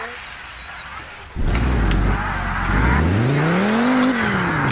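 In the video game Fix It Up, a car engine roars into life after a quiet moment and revs steadily, pitch sweeping up and then falling, loud and up close.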